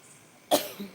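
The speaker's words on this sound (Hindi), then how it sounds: "सूखी सूखी खांसी आ रही है।" A single sharp, dry cough close by, brief and abrupt, followed by a faint short exhale in an otherwise quiet room.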